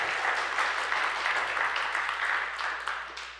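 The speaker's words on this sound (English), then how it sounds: "So can we get a big round of applause?" Audience applause fills a room at an evening speaker event, a dense steady clapping that swells briefly then tapers near the end, with a few faint cheers in the mix.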